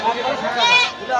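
Goats at a rural goat market in Rangpur, Bangladesh bleat loudly and close by, a wavering cry rising in the middle, while people chatter in the background.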